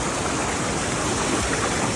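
Close, dense and steady rushing of a waterfall pouring into a clear stream, a constant broadband roar with no voices.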